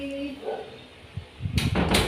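A stuck door rattles and thumps as someone struggles to open it, producing a few knocks and then a louder sustained clatter and scraping, following brief talk at the start.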